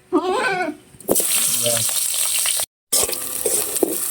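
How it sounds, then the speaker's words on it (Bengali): Raw banana and potato pieces hit hot oil in a kadai, bursting into a loud continuous sizzle after a brief voice, with a short break and the frying resuming. "আমরা কলাটা আলুটা ভেজে নেব"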